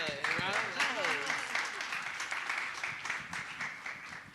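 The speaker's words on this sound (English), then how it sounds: "Can we get a round of applause?" A career-panel audience breaks into applause, faint steady clapping that swells after a brief spoken call and carries on evenly, with voices heard at the start.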